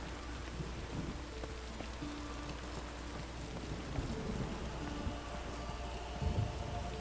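Driving rain in The Witcher 3 pours in a dense, steady hiss with a low rumble underneath, loud and unbroken, with no voices.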